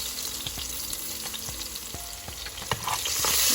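Garlic and pink Himalayan salt sizzle and fry in a hot pan after scallions, a steady crackling hiss with light stirring clicks, close and continuous.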